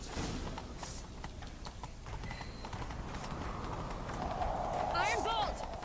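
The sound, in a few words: horse galloping in The Witcher 3 video game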